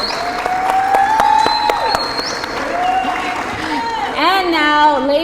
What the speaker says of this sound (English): give a big round of applause to your very own Houston Tillotson Ram